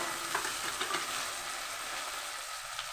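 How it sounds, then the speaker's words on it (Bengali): Onion and chopped tomato frying in a pan, a steady close sizzle with light stirring scrapes running throughout, no voices. "পেঁয়াজটা আমার লাল লাল করে ভাজা হয়ে গেছে তো এবারে আমি দিয়ে দেব কেটে রাখা টমেটো কুচি"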